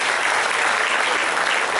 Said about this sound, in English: Give a big round of applause to the Yellow House team.